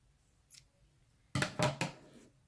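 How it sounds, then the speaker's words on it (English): Scissors snip a strand of yarn at the end of a crocheted toddler dress. One faint click comes first, then a quick run of three crisp, close cuts in a quiet room. "Now I'm going to cut a small strand of yarn"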